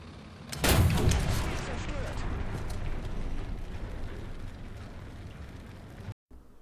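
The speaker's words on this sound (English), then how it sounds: "You can destroy an enemy tank by shooting a high caliber explosive shell under it." A high-caliber explosive shell blasts beneath a tank in War Thunder, giving one sudden loud boom followed by a long, fading rumble.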